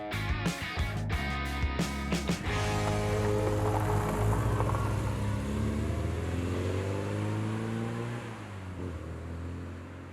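Engine of a fuel-injected turbocharged classic Mini car revving loudly and steadily nearby, with a choppy, sputtering start before the tone settles and slowly eases off.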